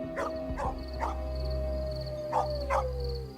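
Neighbours' dogs bark and yip at night in a village, several sharp barks in two bursts with a long, sliding howl stretching beneath them, moderately near.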